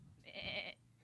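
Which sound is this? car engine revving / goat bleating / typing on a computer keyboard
goat bleating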